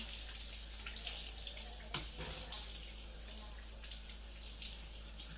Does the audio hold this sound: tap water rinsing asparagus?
yes